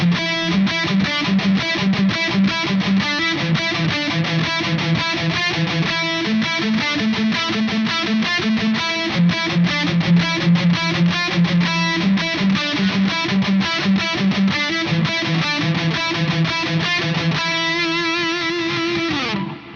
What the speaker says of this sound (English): let's throw on a reverb and see what the lead parts sound like on it